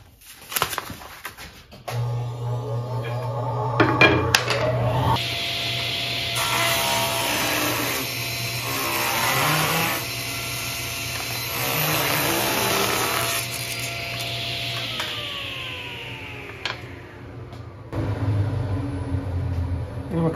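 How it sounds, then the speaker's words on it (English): Table saw ripping a 3/4-inch wooden end cap for a cutting board: a loud, sustained whining cut of about fifteen seconds with a few pulsing swells, starting and winding down in a quiet workshop. "so I'm going to cut that now on the table saw"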